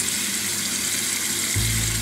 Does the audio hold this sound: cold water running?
yes